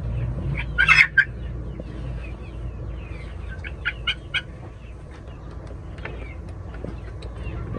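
A sick young chick being treated for Newcastle disease peeps and clucks faintly in a few brief bursts, heard close against a steady low background hum.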